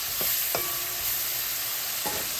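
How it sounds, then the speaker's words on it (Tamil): Shredded cabbage stir-fried in a pan with salt, a close, steady sizzle broken by three sharp scrapes of a spatula pushing the leaves around. "இப்போ இது வதங்கினோடனே கோவாவையும் போட்டு வதக்க வேணும்."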